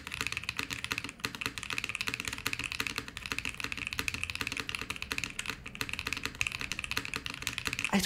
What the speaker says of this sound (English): I don't think every spacebar needs to sound like this